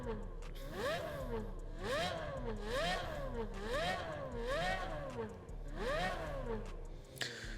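Apollo IE supercar engine in the racing game Test Drive Unlimited Solar Crown, revving hard in a steady rhythm of rising and falling sweeps, loud and close over a constant low drone.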